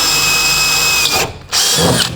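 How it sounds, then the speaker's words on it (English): A power drill with a 1/8 inch bit bores into a spot weld on a 1960-66 Chevy or GMC truck cab, a loud steady whine that cuts out briefly and then resumes, close and with no talk. "Drill yourself a little hole."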